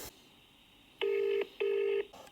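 Two steady electronic dialing tones from a VoIP phone call, each lasting about half a second with a short gap between, loud and clear over quiet room hiss, with a faint click before them.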